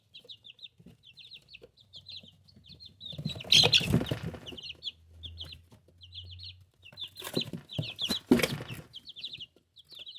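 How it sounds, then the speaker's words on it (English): Young farm chickens clucking in a coop, with repeated soft clucks and chirps close by and louder bursts of fowl calls and rustling in the middle and near the end. "let's go check out the little chickens"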